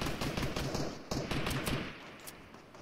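Gunshots in a Fortnite battle royale duos match, a close, loud string of rapid shots with several sharper cracks, trailing off slightly toward the end.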